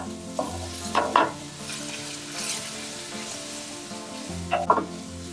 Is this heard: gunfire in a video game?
no